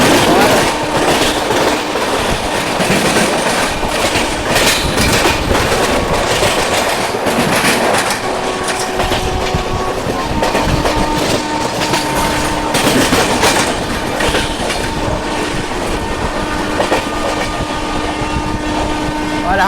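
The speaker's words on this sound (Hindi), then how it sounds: "रांची न्यू दिल्ली रांची गरीब रथ ने इसको ओवरटेक कर दिया है" A Ranchi–New Delhi Garib Rath express train rushes past at speed on a parallel track, giving a steady, loud rumble and rattle of rail cars that runs unbroken for the whole stretch, with faint talk beneath it.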